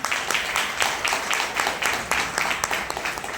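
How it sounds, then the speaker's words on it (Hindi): Applause for a mentor at a business recognition event, a few seconds of steady clapping from a crowd with a voice faintly mixed in. "उनके लिए एक बार 2000 ताली बनती है सर।"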